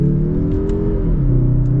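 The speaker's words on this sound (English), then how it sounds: "let's get our little acceleration here now with the Mazda 3 Turbo" A Mazda 3 Turbo car accelerating, its engine a loud, steady drone that climbs gradually in pitch, heard up close from inside with no talking.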